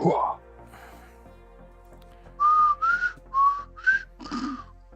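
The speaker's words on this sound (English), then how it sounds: "I can't whistle that good though." After a brief spoken word, someone whistles a short tune of five distinct rising and falling notes, close and clear against a quiet room.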